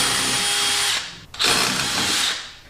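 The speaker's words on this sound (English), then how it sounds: "Then you work your way up to a bigger drill bit." A power drill whines steadily as it bores a hole through a carbon fiber hood with a larger bit, loud and close, with a brief dip in pitch midway before the drilling picks back up.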